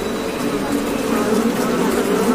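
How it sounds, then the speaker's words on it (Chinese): A wasp buzzes close by, a steady loud drone that holds without a break throughout. "他听到还有马蜂的声音"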